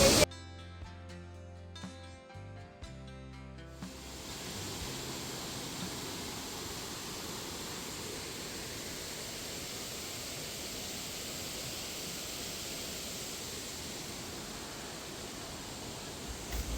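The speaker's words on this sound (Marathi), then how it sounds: "आणि हा इकडे वॉटरफॉल आहे आपण आता हळूहळू जवळ चाललोय वॉटरफॉल जवळ" A waterfall on a day trip in the United States roars nearby as a dense, steady broadband rush that follows a short stretch of music and continues unbroken, with no talk.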